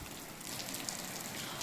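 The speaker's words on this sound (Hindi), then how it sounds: "इस टाइम पे जो है बारिश हो रही है, जैसा कि आपको इसकी आवाज़ से ही पता चल रहा होगा कि बारिश जो है वो कितनी तेज़ी से" Heavy rain pouring outdoors after a snowfall, a dense, even wash of hiss and drumming on surfaces, continuous and moderately loud with no voices.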